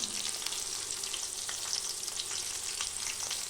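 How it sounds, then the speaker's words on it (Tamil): Onions sliced lengthwise and curry leaves sauté in a pan for chicken curry, making a dense, steady, bright hiss of frying with faint stirring crackles and no pauses. "இந்த வெங்காயம் நல்லா வதங்கட்டும்"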